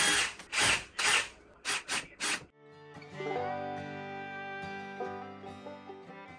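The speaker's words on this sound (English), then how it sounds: "I'm just screwing these in right now to see how they look after they've been primed." A power drill drives screws into primed wooden pieces during a 1930s house restoration. It gives several short, loud whirring bursts, and music follows.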